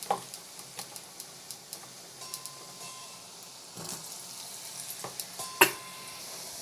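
Oil heats and fries in a pan, giving a soft hiss broken by frequent small ticking pops and crackles, close up with no talking.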